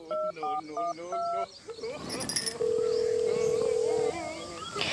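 A telephone is dialed with a quick run of touch-tone beeps in short bursts, followed by a steady dial-type tone, with speech and background noise in between.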